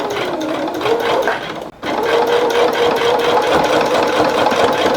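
Close and loud, a sewing machine stitches steadily around the edge of a rag quilt, with one brief stop near the middle before resuming its even mechanical hum.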